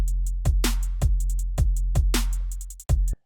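A programmed drum beat in which two snare samples are layered into one bright, punchy hit, backed by a deep kick and steady hi-hat ticks in a tight, even loop. Loud and close, with no voices.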